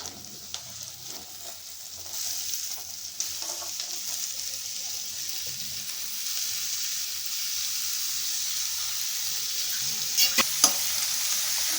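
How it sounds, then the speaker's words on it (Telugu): Chopped budama kaya tossed into a pan of browned onions and turmeric, frying with a steady soft sizzle and stirring scrapes throughout, growing slightly louder toward the end with a few sharp clinks. "కట్ చేసి పెట్టుకున్నాం బుడమకాయలను అయితే వేసేసుకుందాం"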